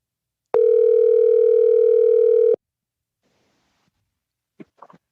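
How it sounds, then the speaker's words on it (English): A phone call rings with a single steady electronic tone lasting about two seconds, followed by near silence and a few faint clicks. "Got it ringing."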